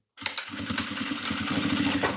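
A sewing machine stitches a multipurpose fabric case, starting after a brief silence with rapid, even mechanical clatter that runs steadily and close up, alone without speech.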